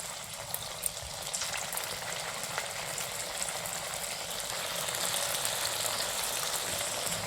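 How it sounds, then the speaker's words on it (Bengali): Heart-shaped singaras drop one by one into hot oil and fry with a steady, close crackling sizzle that grows slightly denser over time, with no voices. "এক এক করে আমরা লিটল হার্ট সিঙ্গারাগুলোকে তেলের মধ্যে এবার ছেড়ে দেব।"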